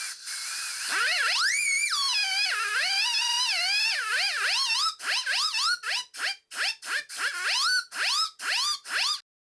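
A small model steam siren from a Microcosm engine wails up and down in pitch, then sounds in a series of short, sharp blasts, loud and close.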